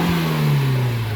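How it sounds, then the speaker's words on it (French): An engine revving hard in a car casually called a "GT" is held against the rev limiter, producing a loud, strained, buzzing drone whose pitch sags slightly over a second, close by and alone. "On va faire marcher le rupteur."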